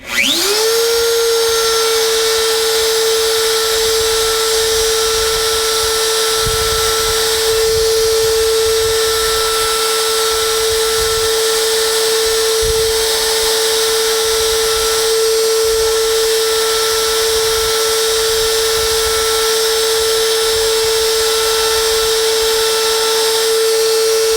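A router fitted with a profile bit trims a wooden edge: a loud, steady, high-pitched motor whine runs unbroken throughout, with slight grinding shifts as the bit bites into the wood.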